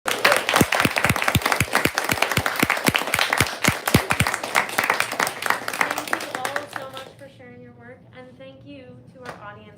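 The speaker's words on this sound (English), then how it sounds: "Let's give one more round of applause." Enthusiastic audience applause at a live poetry reading, dense clapping that thins out after several seconds as the room settles and a voice begins speaking.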